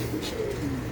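Pigeons coo on a rooftop pigeon loft, soft low throaty burbling calls rolling steadily over a noisy outdoor background.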